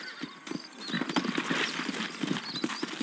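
Horse hooves clop in a steady rhythm, joined by a horse's whinny, moderately close, in the video game Red Dead Redemption.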